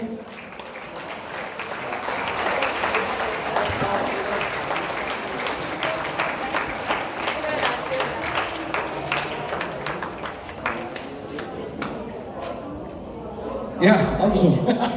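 Audience at an electric band of the year award ceremony applauds steadily, a dense patter of many hands with a louder burst near the end, while a presenter's voice is faintly heard over it.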